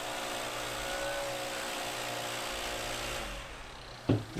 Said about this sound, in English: here I'm blowing the gravel onto the parking lot because it's the nearest hard surface that I can get to